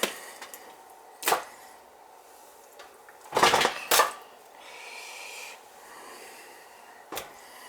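Pots and pans clank as a large pan is pulled out while cooking a beef and pork roast, with several sharp metallic knocks and clatters spread across the moment and a louder pair in the middle.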